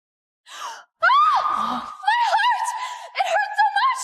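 A woman in an audio drama screams and wails in close, sharp, wavering cries with gasping breaths between bursts over several seconds.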